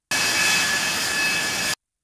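The engine of a McDonnell Douglas AV-8B Harrier II jump jet gives a loud, steady roar that holds for under two seconds, then cuts off abruptly into silence.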